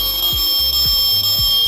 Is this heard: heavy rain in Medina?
no